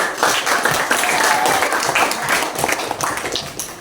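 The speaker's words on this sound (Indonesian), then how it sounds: "Kita beri aplaus untuk kelompok 1." A classroom audience applauding a group that has just finished its presentation, a dense burst of many hands clapping together, loud and close, steady for a few seconds before starting to thin out.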